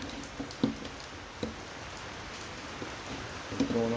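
Steady rain falls outdoors behind someone scrapping a wall-mount air conditioner, a continuous soft patter with a few sharper drips and knocks standing out.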